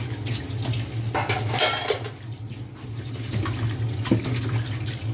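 Raw chicken for adobo washed under a running tap in a kitchen sink, with splashing water and clinking dishes and pans, close and uneven, with small knocks of handling.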